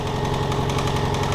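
A faulty Toyota engine runs steadily and close, with a rough idle and a knocking, uneven rhythm throughout, loud and alone with no talk.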